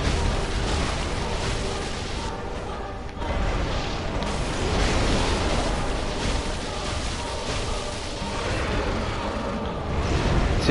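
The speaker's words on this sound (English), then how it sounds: "When his life gets low, he'll start doing an explosion after he jumps." A boss in the game DSR unleashes an explosion after jumping, a dense, roaring blast of rumbling noise that swells and holds across the span, loud and continuous with layered game effects.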